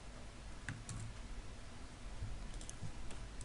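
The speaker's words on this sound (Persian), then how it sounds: "تایپ میکنیم و" Computer keyboard typing while entering HTML code, a few faint, scattered key clicks under a steady broadband hiss and low rumble, with no voices.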